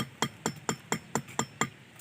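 A hammer pounds a nail flat on a handmade speargun at a Mindoro blacksmith's workshop: seven sharp, evenly spaced metallic blows, close and clear, with no talking.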